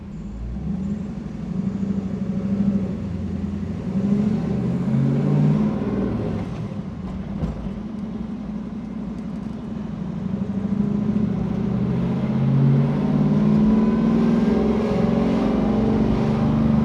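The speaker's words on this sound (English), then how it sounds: "you can hustle it off the line and then get it into the power band, and this thing really goes" A supercharged 650-horsepower LT4 V8 in a lowered 1968 Camaro SS restomod with a six-speed pulls hard through the gears, a deep continuous engine roar heard from inside the car, rising and swelling with no talk.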